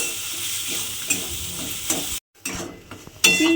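Prawn heads fry with jackfruit in a pan, with a steady sizzle, a scraping spatula stirring in bursts, a brief silent gap and then a louder clatter.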